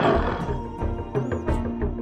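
An angry tiger roaring as an audiobook sound effect, with several close, loud growling bursts in quick succession over about two seconds.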